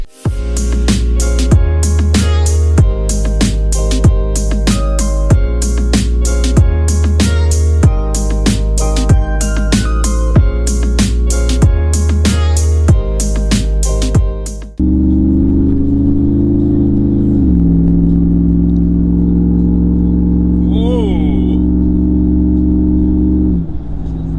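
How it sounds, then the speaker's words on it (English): Loud rhythmic music plays first, then a deep engine rumble takes over, revving and rising in pitch up close. "every time I accelerate"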